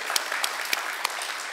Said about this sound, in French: Je vous applaudis d'être ici.